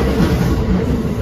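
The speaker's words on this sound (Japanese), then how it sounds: "そしてこの快速急行はここを通過しておきます" A rapid express train on the Hanshin line rushes through a station, giving a loud, continuous rumble of rolling wheels and carriages close by, with no talking.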